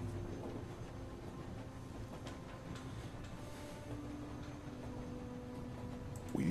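A train rolling along in The Walking Dead video game, a steady low rumble of wheels and carriage with faint rhythmic clicks, heard at a moderate distance for several seconds.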